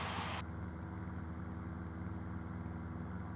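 Steady drone of a Cessna 172 single-piston engine in climb after takeoff, heard from inside the cabin as a constant, even hum with no talk.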